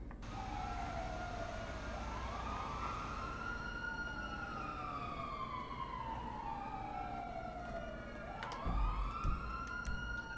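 Emergency vehicle sirens in the GTA roleplay game, a wailing, rising and falling siren sweeping up and down for several seconds, faint and distant over a steady background rumble, with a brief clatter near the end.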